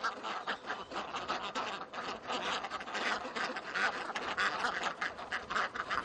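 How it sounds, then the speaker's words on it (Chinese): Domestic ducks quack repeatedly as they waddle home in the evening, a steady, fairly close chorus of overlapping calls that runs throughout without talk. "鸭子们摇摇晃晃地回家 了"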